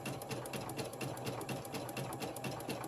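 A sewing machine runs steadily through stuffed gingerbread fabric, its needle ticking in a fast, even rhythm at close range without pause or talk.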